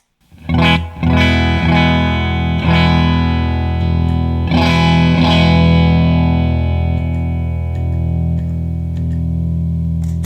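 Electric guitar strummed through an EarthQuaker Special Cranker boost/overdrive pedal, several loud ringing chords with crunchy, mildly distorted sustain fading out slowly.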